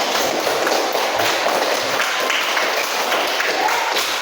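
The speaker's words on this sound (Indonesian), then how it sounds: "tepuk tangan Rifki" A class of schoolchildren applauds a classmate named Rifki, a dense, steady patter of clapping filling the room without pause.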